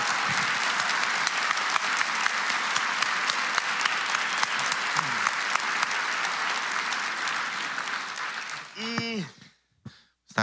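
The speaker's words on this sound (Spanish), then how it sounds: "pido un fuerte aplauso para ellos que están todas las noches" A live talk show's studio audience applauds its team in a long, loud, dense burst of clapping that fades out near the end, followed by a voice.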